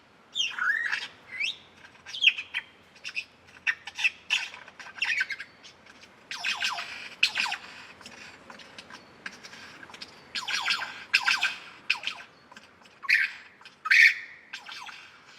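A superb lyrebird sings a varied stream of squawks, chirps and whistles, mixing birdlike calls with a convincing mimicry of a toy gun's rapid zapping bursts, loud and close with no talk.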